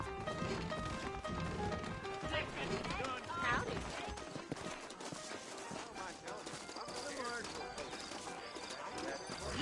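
Horse hooves clip-clop at a walking pace beneath talking voices and faint outdoor ambience, soft and somewhat distant, in the video game Red Dead Redemption.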